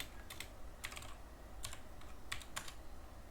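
Typing a SQL command on a computer keyboard, quiet clusters of key clicks in uneven bursts over a low background hum.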